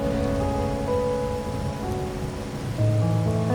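Rain falling in the video game Wuthering Waves, a steady patter on surfaces beneath soft sustained musical tones, with a low rumble near the end and no speech.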